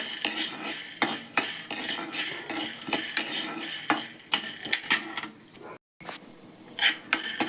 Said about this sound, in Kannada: ಇವಾಗ ಶೇಂಗಾ ಹುರ್ಕೊಳ್ಳೋಣ ನೋಡ್ರಿ